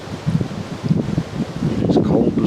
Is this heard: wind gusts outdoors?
yes